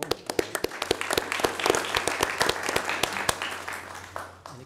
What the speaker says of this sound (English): You want to applaud?